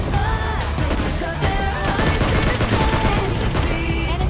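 Rapid automatic gunfire from a bot in PUBG Mobile Lite, loud and close, a continuous rattling burst with overlapping game effects and no talking.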